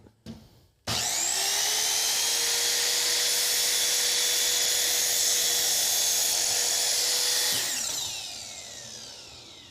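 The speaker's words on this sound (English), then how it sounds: "Now I'm finished with this miter saw" Miter saw spinning up and slicing through a piece of wood for a picture frame, a loud sustained whine with a steady pitch that lasts several seconds before winding down.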